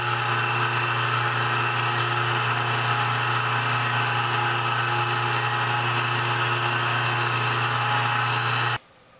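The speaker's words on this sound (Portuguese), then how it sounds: "Passei o corpo na politriz, o brilho voltou" A polishing machine buffs the painted body of an electric guitar with a loud, steady whirring drone that holds constant and then cuts off abruptly at the very end.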